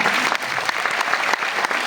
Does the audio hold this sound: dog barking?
no